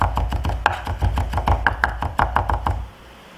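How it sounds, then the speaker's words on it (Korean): A knife rapidly minces a small amount of onion on a cutting board while preparing hamburger patty ingredients, giving a steady run of crisp, close chopping taps that stops abruptly near the end. "양파는 한 수저 정도만 이렇게 다져볼게요"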